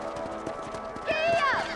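Horse hooves clip-clop in steady rhythm in Red Dead Redemption on Nintendo Switch, the regular thuds running under game music and a voice, with a brief rising whistle-like tone near the end.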